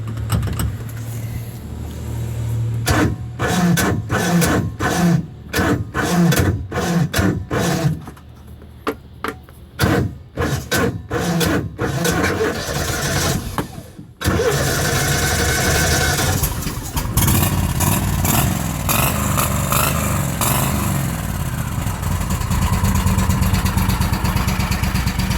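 An Argo Avenger 8x8 amphibious off-road vehicle with an exhaust leak starts up, its engine firing in a run of sharp rapid pulses, dropping, catching again, then settling into a loud, steady near run with revs.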